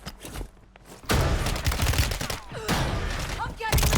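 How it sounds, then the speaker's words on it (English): Rapid bursts of gunfire in Warzone 3 erupt loud and near, sustained and dense after a quieter opening, with overlapping shots and sharp cracks coming from a nearby building. "now we're being shot from a whole nother building"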